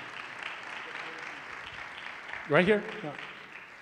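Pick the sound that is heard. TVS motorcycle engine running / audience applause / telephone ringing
audience applause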